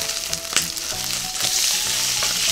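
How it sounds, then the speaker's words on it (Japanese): Liver coated in potato starch stir-fried in oil in a pan, a steady close sizzle with scraping stir strokes and clacks of a utensil against the pan, no voices. "で、油通しならぬ、まあ、油でちょっとこう炒めて、"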